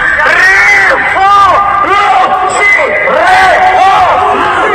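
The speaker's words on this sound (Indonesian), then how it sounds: "Kita teriak bersama-sama kawan-kawan biar suaranya terdengar sampai istana." A large crowd shouts together in loud, rhythmic unison, close by, their chant rising and falling in repeated bursts.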